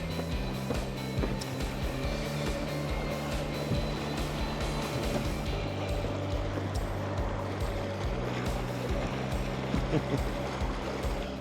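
A small 1.3-kilowatt Italian electric yacht motor runs with a steady, continuous whine, with water churning close by.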